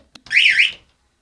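A single short electronic quiz-show buzzer sounds after a faint click on a Bible quiz game, loud and close, lasting about half a second with a warbling tone.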